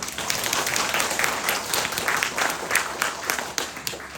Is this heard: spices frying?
no